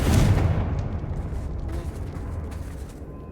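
A Confringo fire spell blasts in Hogwarts Legacy, a loud booming explosion at the start that rolls into a fading, rumbling decay with crackling debris over a few seconds.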